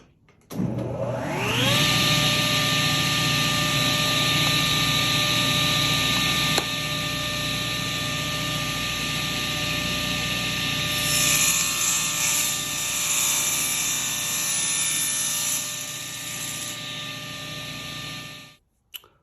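A power saw spins up to a steady high whine, cuts through a segmented pen blank and then winds down and stops, loud and close with no talking.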